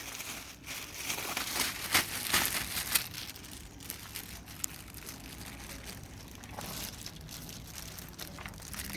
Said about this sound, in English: I'm going to put my hand in a plastic bag now to pick the jackfruit